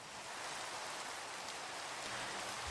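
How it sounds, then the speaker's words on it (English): Steady rain falls in Minecraft, a soft, even hiss that runs unbroken and fairly faint, with no talk. "I don't love that it's raining though."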